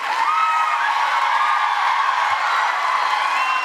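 A large crowd cheers and roars at a presidential speaking event on the 21st-century workforce, a steady, dense wall of voices that stays loud and unbroken throughout.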